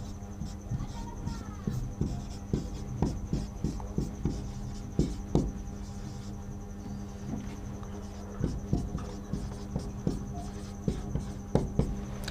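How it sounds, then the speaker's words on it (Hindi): A teacher writes out a sentence in an English grammar lesson: a quiet, close series of short, scratchy pen or chalk strokes in uneven bursts, separated by brief pauses. "एक सेंटेंस लिखता हूँ"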